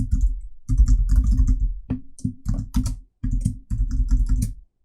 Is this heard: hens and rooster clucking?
no